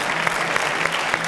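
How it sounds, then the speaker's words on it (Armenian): An audience at a gala concert claps continuously, a dense, loud round of applause that fills the whole short stretch with no break. "Ուրա ծափերը։"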